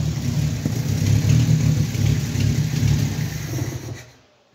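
A Renault 11 GTL engine idles steadily with its cooling fan turning, a continuous low rumble close by that cuts off abruptly near the end.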